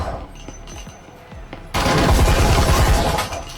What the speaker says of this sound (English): 1 tap to the head with an automatic with the fastest fire rate in the rifle category, the Vezin